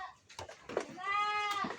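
A crossbreed goat on a farm during a dry season lets out a drawn-out, wavering bleat close by, preceded by brief rustling and short animal calls, moderately loud with no talking.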